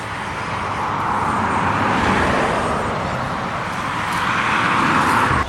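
A steady, loud roar of busy morning road traffic from the road below, a continuous wash of engine and tyre noise with no distinct gaps and no voices.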